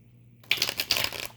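Tarot cards are shuffled by hand up close, a quick crisp burst of riffling, flapping clicks lasting about a second after a near-silent start.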